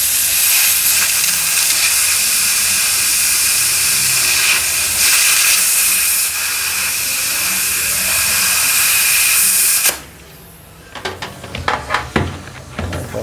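Steady loud hiss of compressed air rushing into a tubeless tire on a spoked motorcycle rim, continuous for about ten seconds before cutting off, followed by scattered clicks and handling sounds.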